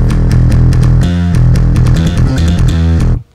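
Layered bass and metal guitars processed with a saturator and a low-end boost play tight, chugging riffs with deep sustained low notes, loud and dense, stopping abruptly near the end.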